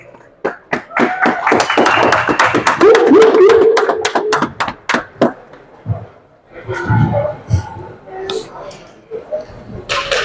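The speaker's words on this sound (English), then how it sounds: "can I get a round of applause?" At a GTIFL playoff wild card game between the Axolotls and Thunder, a scattered round of clapping rings out as team captains enter with flags, sharp individual claps at first, then thinning out while a voice talks over the crowd.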